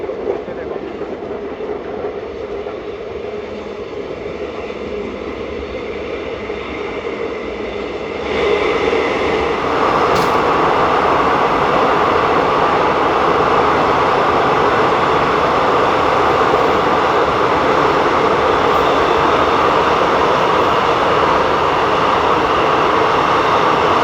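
A diesel DEMU train runs along the Katra-Banihal line, its steady rumbling roar growing louder partway through as it keeps moving, with continuous rail noise and no talk.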